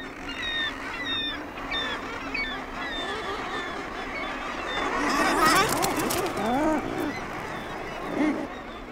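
A cliffside colony of adult murres on the Canadian ice edge calls continuously, a dense chorus of harsh, layered croaks and cries at moderate distance that swells toward the middle.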